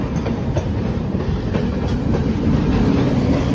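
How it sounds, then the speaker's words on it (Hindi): A New Delhi to Dibrugarh train rolls past on a neighbouring route, a loud close rumble of wheels and carriages that runs continuously through the whole stretch. "ऐसे ये ट्रेन जा रही है दूसरे रूट पर"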